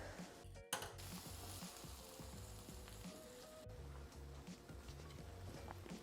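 Eggs hitting a pan of softened tomatoes and wilted basil for a low-carb breakfast burrito, a faint continuous sizzle with a sharp clatter near the start.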